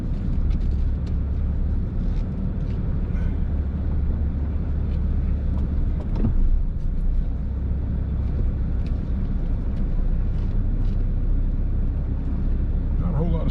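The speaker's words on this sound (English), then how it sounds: "Not a whole lot of space for this big truck to turn around" A big truck idles and rumbles at close range while being maneuvered to turn around in a tight spot at the end of a campground road, a steady low engine drone lasting throughout.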